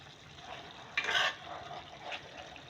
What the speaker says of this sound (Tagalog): Napiprito na siya sa sarili niyang mantika.